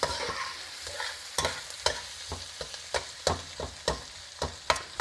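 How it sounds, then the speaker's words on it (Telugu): Food fries in a pan at home, a soft sizzle under a series of sharp scraping stirs that come roughly every half second, close and fairly quiet. "దీన్ని మంచిగా ఇట్లా ఫ్రై అవ్వాలి ఇక."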